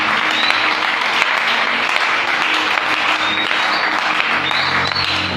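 A church congregation applauding at a worship service, dense sustained clapping close and loud for several seconds, with voices faintly mixed in.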